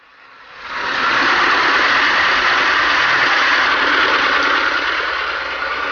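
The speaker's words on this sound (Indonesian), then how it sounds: "kita lakukan dulu penyedotan air dengan mesin" An engine-driven water pump runs beside a 1,500-square-metre shrimp pond, draining it before harvest; the motor starts up and settles into a loud, steady, close drone with a broad rushing hiss.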